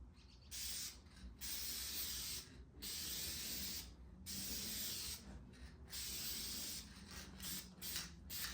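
Steady hissing bursts of a spray can painting a small-block Chevy 383 stroker engine block, about six sustained sprays separated by brief pauses, close and loud.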